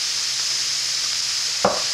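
A sloppy joe mixture with smoked paprika sizzles steadily in a pan, then a single quick scrape of stirring cuts in just before the end.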